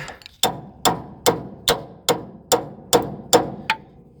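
A steel hammer taps a nut on a haybine under restoration, eight sharp metallic strikes in a steady, evenly spaced rhythm, close and clear, each ringing briefly before the next.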